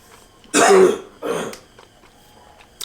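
Two harsh, dry coughs close by, the first stronger and the second shorter, then quiet.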